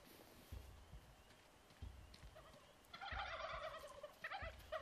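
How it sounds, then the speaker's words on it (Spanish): Turkeys gobbling in the video game How to Survive 2, with bursty warbling calls rising in the second half over low thumping game sounds and footsteps. "Más pavos."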